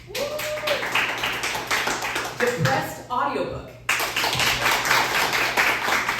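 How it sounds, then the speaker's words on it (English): A theatre audience at a variety show claps to vote, with rapid, dense applause from many hands filling the room, a short pause while someone speaks, then a second burst of clapping. "let's do a clapping thing"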